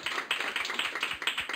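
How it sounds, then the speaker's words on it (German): A small group gives a short round of applause for the cyclist Jonas, quick crisp claps repeating evenly and close by, with no talk over them. "kurzer Applaus für Jonas"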